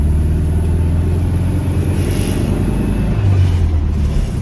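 Running in second gear, a car with a Solex 34 PICT 3 carburettor gives a continuous close engine drone, low and even, swelling slightly toward the end.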